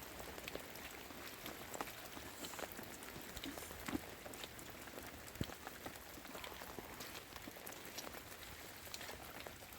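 Rain falls outdoors in steady hissing patter with scattered louder drops, continuous and fairly faint, where a displaced family has no shelter.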